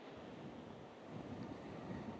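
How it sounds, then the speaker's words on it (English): Strong wind roars steadily during Hurricane Irma, a dense rushing gust buffeting the microphone with low rumbling, growing slightly louder toward the end, with no voices. "excuse me, the wind's blowing here"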